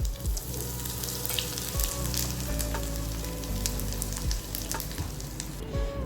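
Asafoetida dropped into hot oil for a lemon pickle tempering sizzles loudly and steadily up close, with a few soft crackles and stirring sounds.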